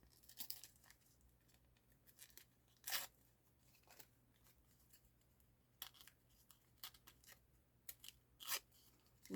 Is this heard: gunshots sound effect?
no